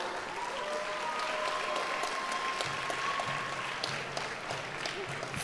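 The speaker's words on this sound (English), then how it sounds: "Let's give them another round of applause." Graduating students of the Cornwall College Class of 2026 receive a steady round of applause at a valedictory service, a dense, sustained clatter of many hands filling the hall at moderate level from start to finish.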